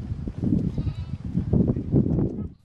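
Sheep on a small livestock farm bleat in several overlapping, fairly loud, close cries that fade out at the end.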